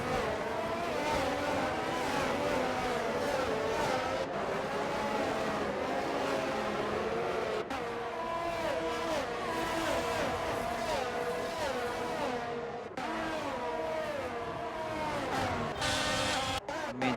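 Race cars in an iRacing online league race at the Mexico circuit drone on continuously, engines rising and falling through gear changes, with a steady loud roar and no talking.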